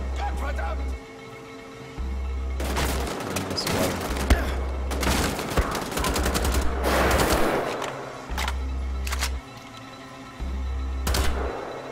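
Rapid rifle fire from Wolfenstein: The Old Blood crackles in loud, dense bursts that start and stop several times, with someone talking over the shooting and a low hum between volleys.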